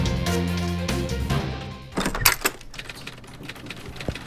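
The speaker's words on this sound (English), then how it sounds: "Superman typed the amazing story of Mort Veeler versus Batman and Robin" Rapid clacking of a typewriter in a radio drama, a burst of keystrokes followed by a carriage bell and return, set against a held music tone at first.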